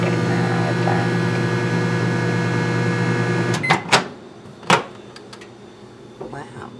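A microwave oven hums steadily while cooking two eggs, then the drone stops partway through and a few sharp clicks and knocks follow, with faint handling noise afterward.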